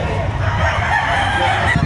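A rooster crows briefly at a Saturday chicken market behind SM City Lipa, Batangas, up close amid the background chatter of the crowd.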